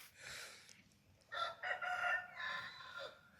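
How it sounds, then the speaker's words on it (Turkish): Roosters crow faintly in the distance, a few stretched calls one after another against quiet outdoor background noise. "Horozlar da bir yandan ötüyor."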